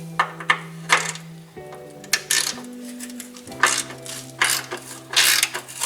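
Metal ratchet clicks and wrench work on the rusty bumper support bolts of a 2007 Subaru WRX, with a series of close, sharp clanks and clicking bursts over a steady low hum.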